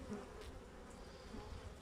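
Honeybees at a hive during a winter inspection, a low continuous buzzing hum that holds steady and fairly faint throughout, with no talk over it.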